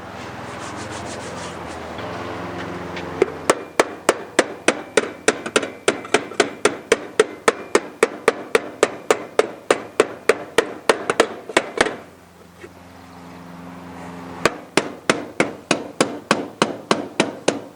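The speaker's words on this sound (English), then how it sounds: "So the idea is we're going to hammer this back in a little bit." Steady, forceful hammer blows ring out on a warped metal plate of a Masterbuilt Gravity Series 560 grill, dozens in a regular rhythm, with a short pause partway before the pounding resumes.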